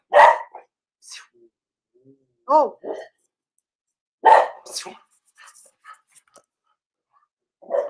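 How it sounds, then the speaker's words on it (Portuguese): An excited dog gives a few sharp, close barks separated by gaps, mixed with a person's brief exclamations and short bits of talk indoors. "o cachorro fica empolgado aqui com os bichinhos"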